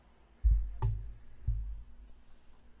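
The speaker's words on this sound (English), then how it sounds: "all that mouse clicking in the background" A computer mouse clicks a few times close to a sensitive microphone during a live stream, three distinct sharp taps spaced about half a second apart over quiet room noise, no speech.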